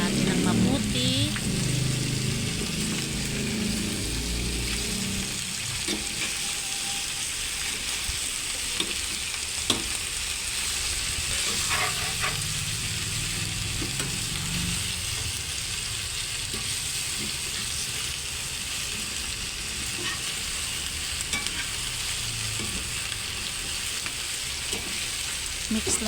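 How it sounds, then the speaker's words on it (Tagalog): Food frying in a pan while being mixed, a long steady sizzle with occasional scraping and stirring clatters, a voice speaking at moments over the cooking noise. "Mix lang natin ng mabuti."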